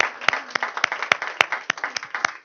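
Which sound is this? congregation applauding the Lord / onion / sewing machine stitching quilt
congregation applauding the Lord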